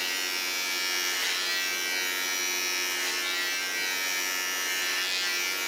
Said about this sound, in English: a small clipper.